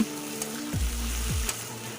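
Chopped tomatoes and spice paste fry in a pan with a steady soft sizzle, broken by a couple of low scraping sweeps as the mixture is stirred.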